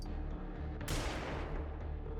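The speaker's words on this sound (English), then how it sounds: "Lob the flashbang there." Flashbang grenade detonating in the strategy game Xenonauts 2, a sudden loud broadband blast midway that rings out into a dense, rumbling decay under a low background drone.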